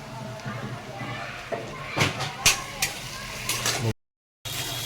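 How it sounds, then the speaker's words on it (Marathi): Onion, tomato, green chili and curry leaves fry in a pan for a dry shrimp dish, giving a steady close sizzle with a few sharp stirring scrapes and clinks, a brief dropout near the end, and talk running over it. "कांदा टमाटर हिरवी मिरची कढीपत्ता हे छान असं गोल्डन ब्राऊन कलर करून घ्यायचं आहे"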